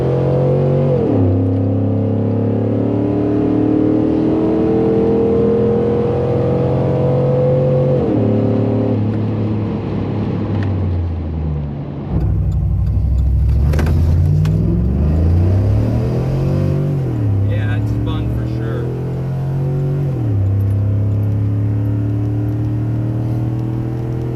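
A Chevrolet Silverado with a swapped 6.0 liter V8 roars hard through a quarter-mile run, loud and close, its engine note climbing and dropping through repeated gear shifts with a steady rumble underneath and no talking.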